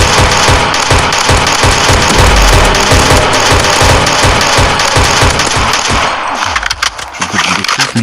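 Rapid automatic gunfire from a modded Minecraft survival game, a loud sustained burst of rattling shots that thins and breaks up toward the end.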